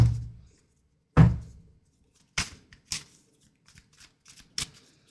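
Tarot cards handled and shuffled close up: a couple of soft riffling sweeps followed by sharper slaps and taps as the deck is squared and cards are laid down, with quiet gaps between.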